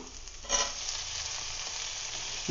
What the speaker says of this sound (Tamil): வெங்காயம் நல்லா வதங்கின பாரு, நம்ம தக்காளி சேர்க்க போகிறோம்.